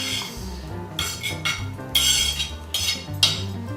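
A fork clinks and scrapes against a bowl while mixing crab meat with room-temperature cream cheese, in a steady rhythm of close, bright metallic taps with no talk.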